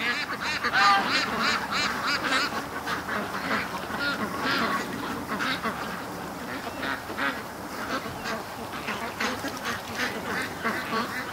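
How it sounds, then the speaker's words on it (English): A creek crowded with ducks gives off a dense, steady chorus of overlapping quacks and goose-like honks, continuous and fairly near throughout. "the creek's full of ducks"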